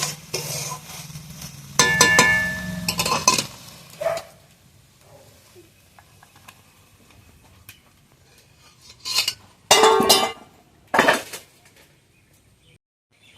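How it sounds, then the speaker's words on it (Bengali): Cooked pumpkin and shrimp curry tipped from a pot into a serving dish, heard as a few separate bursts of metal scraping and clattering, a spoon knocking against the vessel, with quiet gaps between. "তরকারিটা হয়ে গেছে, এবার আমি ঢেলে নেবো।"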